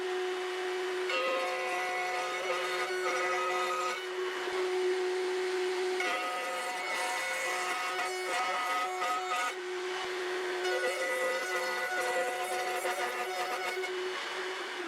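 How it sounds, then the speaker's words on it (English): A router on a horizontal-axis router table whines steadily while routing a plywood strip, a high, continuous tone with small pitch shifts as the cut loads and eases, close and alone. "I'm going to route on the strip a surface parallel to those 2 edges"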